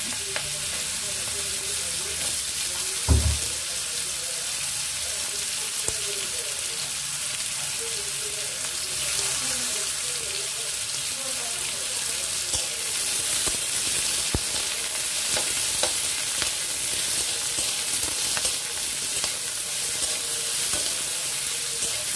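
Potatoes fry in a tempering of dried red chilli and nigella seeds, sizzling loudly and steadily while a spatula scrapes and stirs them, with an early thump as they go in.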